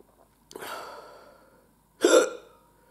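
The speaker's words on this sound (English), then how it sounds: "Just friggin' hiccups." Two sharp hiccups from someone after eating a hot sauce, close and alone, the first slightly drawn out and the second louder about a second and a half later.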